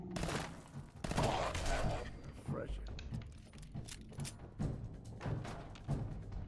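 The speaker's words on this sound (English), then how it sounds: "Let's shoot him in the head." Gunshots in Fallout 4, a character firing at an enemy's head, sharp reports popping out several times over a busy game soundscape while a person talks.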